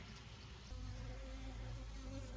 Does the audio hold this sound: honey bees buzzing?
yes